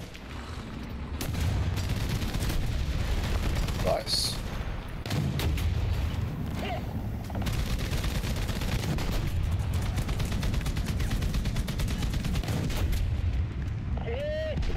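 Tank cannon and machine-gun fire in War Thunder rumble as a dense, continuous barrage of booms and rattling shots, loud and close, with brief voices talking over the battle.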